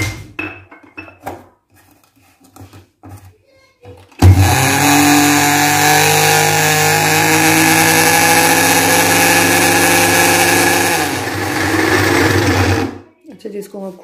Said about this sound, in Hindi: ब्लेंड करेंगे।